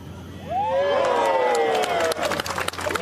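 A golf gallery at the final round of the HSBC Women's World Championship cheers a birdie putt dropping on the first hole. A loud roar of cheers swells quickly and mixes with scattered claps and shouts.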